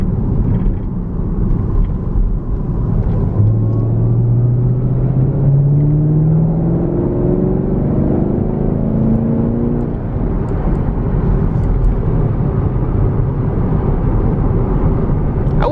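A Chevy Camaro SS Scat Pack pulls away hard on a test drive, its engine rumble swelling into a rising tone that sweeps up steadily through the gear, loud and continuous from inside the cabin.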